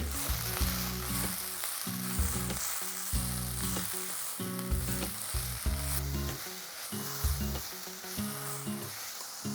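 Green chillies frying with mint and coriander in a pan for a foxtail millet kebab, a loud continuous sizzle broken by regular stirring strokes.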